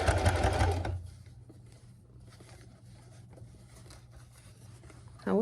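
A sewing machine stitches a zipper pouch in a short loud burst of rapid needle chatter, then falls to near silence with faint handling sounds before starting up briefly again at the end.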